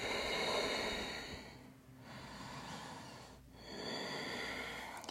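Slow, deep breathing during yoga practice, close and soft: a long airy exhale, a pause, then another drawn breath in and out, steady and unhurried with no talking.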